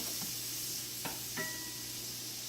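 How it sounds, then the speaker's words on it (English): About 3-4 tablespoons of butter melt in a pan with a steady, soft sizzle and hiss, punctuated by a few light scrapes or taps, close and unaccompanied by talk. "I'm using about, we'll call it 3-4 tablespoons of butter in the pan. I'm going to melt this down."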